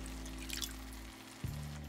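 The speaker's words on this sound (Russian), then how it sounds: "Я добавляю еще воды" Water poured into a simmering chicken liver sauce in a home kitchen, a soft trickle and splash over a steady low appliance hum, with one brief knock near the end.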